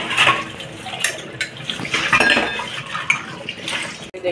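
Metal puja vessels and utensils from a home shrine clink and clatter against each other in a quick, irregular run of close, bright knocks, with a faint watery rush underneath and no one speaking.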